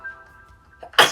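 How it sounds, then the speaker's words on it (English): A single loud, sharp sneeze bursts out after a brief intake of breath, following a quiet stretch with faint background hum. "I gotta sneeze."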